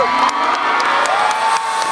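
A concert crowd at an outdoor show at Anjungan Losari, Makassar, cheers and whoops for the vocalist, a dense continuous roar of voices with scattered shouts, loud and steady throughout.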